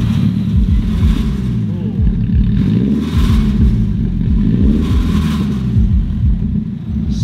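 Engine of a drift car running with no exhaust fitted, a loud, rattly close-up rumble that rises and falls through a few rev swells, with voices talking over it.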